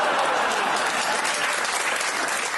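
A studio audience at a BBC Friday night comedy show bursts into loud, sustained applause and cheering that fills the whole stretch without a break.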